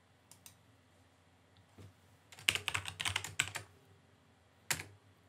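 Typing a chat reply on a computer keyboard in a clinic messaging app: scattered keystrokes, then a dense burst of quick clicks in the middle and one last tap near the end, close and fairly quiet, with no talking.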